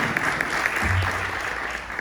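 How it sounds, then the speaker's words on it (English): An audience at an ISKCON North America gathering gives steady, sustained applause, a continuous wash of many hands clapping at moderate loudness throughout. "I think we should also give her a round of applause for that"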